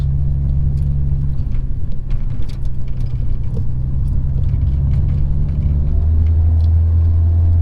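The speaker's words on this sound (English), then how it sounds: "we are hitting some rough roads" A Honda Civic EJ with newly installed full suspension rolls over rough small-town roads, giving a steady, loud low rumble of engine and tyre noise inside the cabin with no talking.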